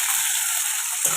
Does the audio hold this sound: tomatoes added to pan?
yes